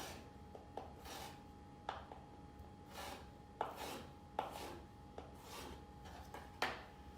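A knife slices scallops into strips on a board, giving soft, irregular thuds and brushing strokes, close but quiet, with a faint steady hum behind.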